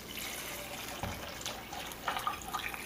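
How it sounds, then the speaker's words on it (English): Hot water poured into thick ballistic gelatin mixture, a steady soft liquid pouring and splashing with a few brief gurgles, fairly quiet. "So we want to dilute it with this hot water."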